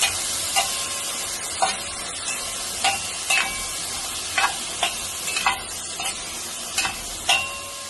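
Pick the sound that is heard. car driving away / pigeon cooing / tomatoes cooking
tomatoes cooking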